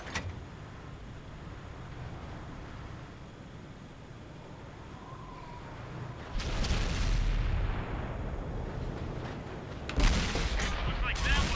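Tank cannon shots from an M51 Super Sherman in World of Tanks, two loud booming blasts after a quieter stretch of rumbling, each followed by a broad decaying roar.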